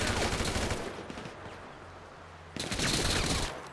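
Bursts of automatic gunfire in GTA 5, a loud rapid barrage that fades, then a second heavy volley opens up before tailing off, with faint talk underneath.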